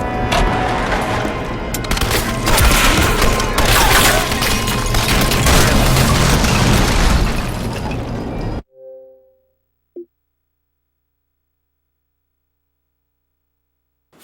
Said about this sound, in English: Four enemies with one grenade.